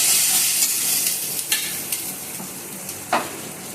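Pointed gourd curry stirred in a hot pan, a bright sizzle overlaid with several scraping utensil strokes, including one sharper knock near the end.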